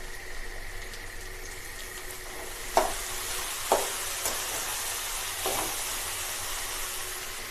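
Spinach and chickpea greens stir-fry in a pan, a soft low sizzle with a few distinct scraping stirs spaced out over a quiet background, close but fairly faint, no voices.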